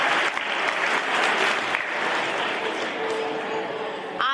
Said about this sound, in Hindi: आप सभी लोग एक बार अपने आप के लिए जोरदार तालियां